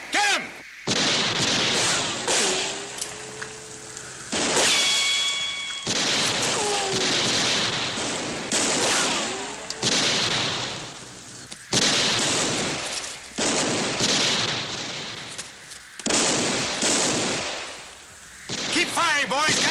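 Western shootout gunfire, repeated sharp gunshots and booming reports scattered irregularly over about twenty seconds, some near and loud, mixed with shouting voices.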